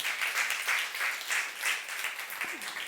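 A church youth congregation at a Saturday worship service claps together, a soft, steady wash of many hands heard from a distance with rhythmic swells and no break.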